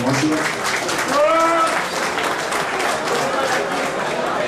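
An audience at a reunion of a Rhodes radio-operator school applauds its commander, producing loud sustained clapping that fills the whole stretch while a voice speaks over it.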